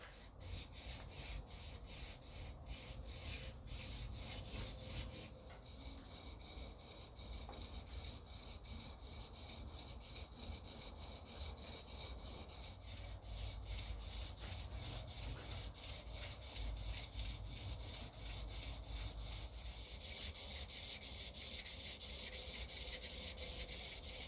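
Hand sanding of a Chrysler 360 crankshaft with 400-grit sandpaper: steady rhythmic rubbing strokes, close and fairly quiet, continuing without pause and growing slightly louder toward the end.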